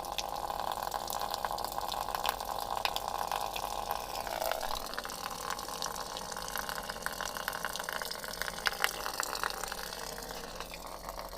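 Steady running and trickling water from a heat pump in defrost mode at -1°C outdoors, melting icicles, with the unit's constant mechanical hum beneath it, continuous and fairly quiet throughout.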